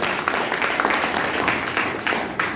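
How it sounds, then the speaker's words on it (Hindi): Applause from an audience at a health awareness talk in Vastral, Ahmedabad, as a dense, steady patter of clapping that carries on for a couple of seconds. "तो तालियां उनके इसके लिए।"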